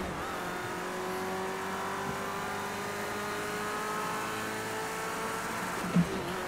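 A race car engine at Le Mans in a racing video game drones steadily, its even pitched tone rising slowly throughout, with one brief sharp knock near the end.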